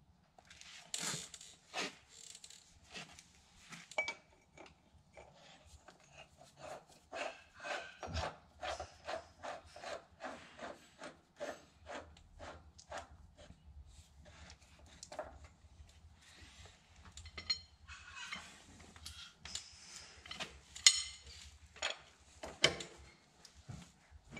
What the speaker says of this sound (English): do the nut up tight, and then you back it off